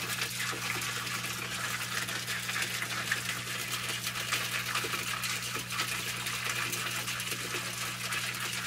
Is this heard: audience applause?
no